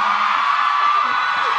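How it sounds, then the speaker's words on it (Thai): Audience at a press conference event screaming and cheering together, a dense sustained roar of high-pitched shrieks filling the whole stretch at close, loud level. "ใครอยากเห็นพี่เอขึ้นมาเต้นบนเวทีขอเสียงกรี๊ดหน่อยได้มั้ยฮะ"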